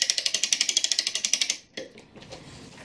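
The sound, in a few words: American clock mainspring being wound up, ratchet clicking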